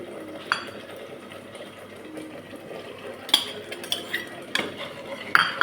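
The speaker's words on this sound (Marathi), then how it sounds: "आमची मैत्रिणींना मोठी पळीच सापडा म्हणून छोट्या चमच्यानंच हलवावं लागतंय." A small spoon stirs chicken curry in a pan, scraping and clinking against the metal in irregular strokes, with sharper knocks toward the end; close and fairly quiet, no talking.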